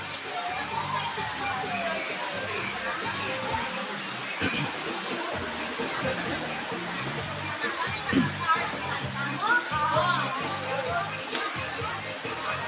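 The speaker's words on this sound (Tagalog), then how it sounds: "Ito yung ano, extra na water na lumalabas. Extra na tubig eh. May sarili siyang labasan." Excess water from a natural mountain source pouring out of its own overflow outlet at a pool, a steady broad rush of flowing water with voices talking over it throughout.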